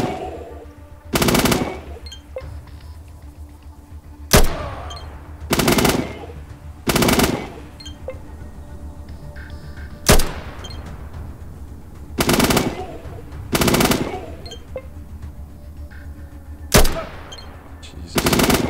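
Bursts of automatic firearm gunfire in the video game ATOM RPG, about eight separate loud bursts of fire with short gaps between them over a steady low background, and no talk.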